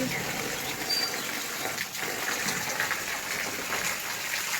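Water gushes steadily in a domestic setting, a continuous broadband pour like a tap filling a vessel, fairly close and unbroken throughout, with faint background voices.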